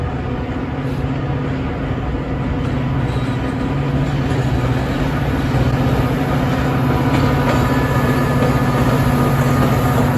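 A Metra passenger train rolls past near Chicago's Roosevelt Road, a loud steady rumble with a droning engine hum and faint high squeals that build slightly as it goes by.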